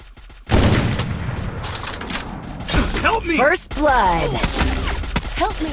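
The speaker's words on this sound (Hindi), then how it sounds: "यहाँ सिर्फ ये गोली चला रही है" Gunfire crackles in the Free Fire battle-royale game, starting with a sudden loud burst and continuing as rapid, harsh shots. A voice talks over much of the shooting.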